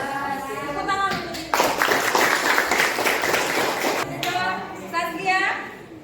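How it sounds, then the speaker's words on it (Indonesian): Classroom applause breaks out in a dense burst of clapping that lasts a few seconds, with talking before and after it. "Tepuk tangan untuk"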